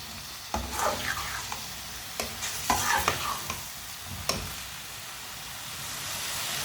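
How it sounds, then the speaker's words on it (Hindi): Tinda (apple gourd) sizzles and fries in a spice masala in a pan, with several sharp stirring scrapes and clatters breaking through a steady frying hiss; no one talks. "टिंडों को 2 मिनट के लिए भून लेंगे, 2 मिनट के लिए पका लेंगे।"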